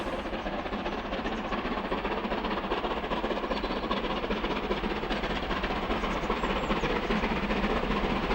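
Taw Valley, a West Country class steam locomotive, climbs Whitley Bank with the regulator wide open and 50 percent cut-off, a loud, continuous rapid chuffing with rail clatter close by, steady throughout.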